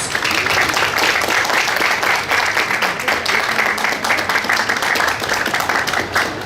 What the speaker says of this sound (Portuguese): Recebe as nossas palmas.